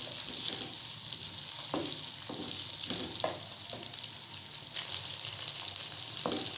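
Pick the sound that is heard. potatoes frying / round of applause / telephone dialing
potatoes frying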